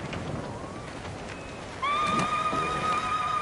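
A horse neighs in a video game, a long rising whinny that enters midway and rings out loud and close over a steady background hiss, with faint clip-clop earlier.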